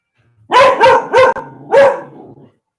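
A dog barking close and loud, four sharp barks in quick succession with a short whine trailing between the last ones, alone with no other sound.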